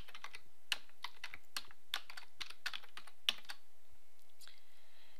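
Rapid typing on a computer keyboard, close and crisp, with irregular clusters of keystrokes and short pauses that trail off near the end; no one speaks.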